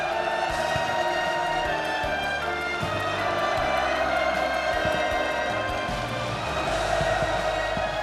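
Participants cheer at the inauguration ceremony of the Sinpho City offshore farm, a steady, distant crowd roar that holds at a moderate level throughout.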